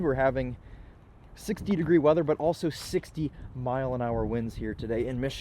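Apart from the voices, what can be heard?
No everyday noise stands out behind the speech.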